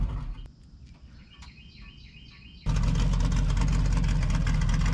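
The engine of a 1964 International Harvester C900 truck idles: after a quieter stretch with birdsong and a faint low rumble, the engine abruptly surges into a loud, steady, rough, low drone that continues to the end.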